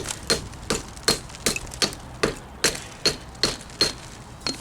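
An axe strikes and scrapes loose concrete off an old foundation in a steady rhythm of about a dozen sharp, close knocks, each ending in a short scrape, with no talk.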